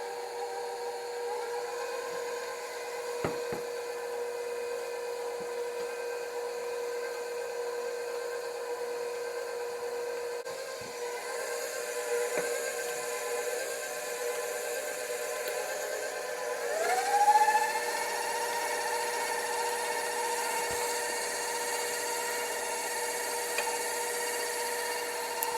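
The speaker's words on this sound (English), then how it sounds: "Now I'm going to turn the mixer back on low, and we're going to kind of mix this together" An electric mixer runs on low, mixing carrot cake batter with a steady, even whir that shifts slightly in pitch partway through and continues unbroken.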